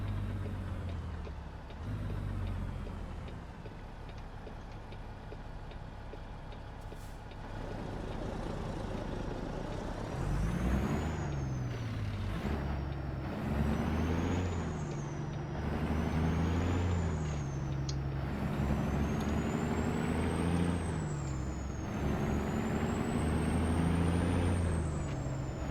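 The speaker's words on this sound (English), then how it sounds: "this is the 625 horsepower version of the C15" Heavy truck with a 625 horsepower Caterpillar C15 engine in American Truck Simulator, droning steadily, then revving up and down through several gear changes with a high whine and a loud air-brake hiss.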